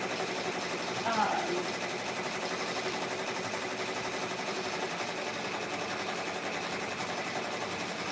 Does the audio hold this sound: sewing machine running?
yes